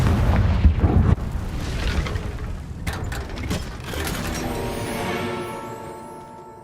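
The Confringo blasting spell in a video game sets off a loud, close explosive boom, followed by a fading rumble and clattering debris.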